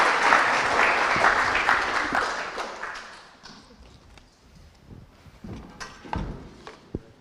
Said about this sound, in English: Could we please give a round of applause for Joanna